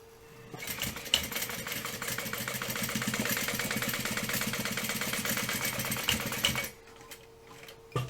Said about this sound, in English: fold it over, and then top stitch on that crease as well